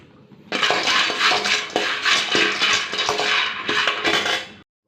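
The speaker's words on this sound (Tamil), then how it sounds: "பாதாம் வறுத்துக்கலாம் பொன் வறுவலாக வறுத்து" Almonds dry-roasting in a pan rattle and clink steadily against the metal as they are stirred, a close, continuous scraping and tinkling for a few seconds.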